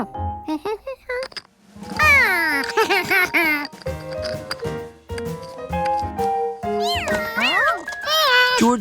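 A cartoon cat meows repeatedly in short, bright, rising and falling cries, mixed with other squeaky animated vocal sounds and voices, playful and close.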